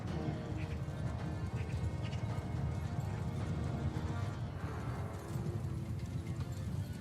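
Many horses' hooves pound in a continuous rumbling clatter as mounted horse archers move in a video game battle, loud and dense throughout.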